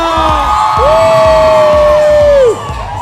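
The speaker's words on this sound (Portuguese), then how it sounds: "Eu quero ver o grito da galera!" Studio audience on a 2009 Brazilian TV talk show cheers, whoops and shouts loudly together, a dense sustained crowd roar with one high held yell standing out before it dips.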